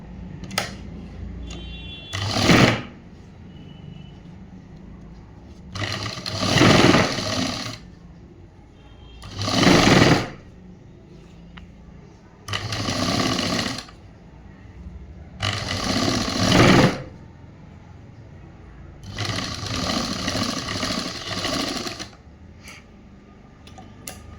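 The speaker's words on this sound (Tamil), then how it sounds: "இது அப்படியே வச்சுட்டு டைட்டாக ஒரு தையல் போடுவோம்." A sewing machine stitches a government school uniform shirt in six distinct bursts of steady, close whirring, separated by short pauses, with no talking.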